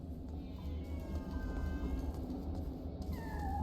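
Cats meow in a LEGO Batman video game, a few thin drawn-out meows, faint over a steady low game hum and music.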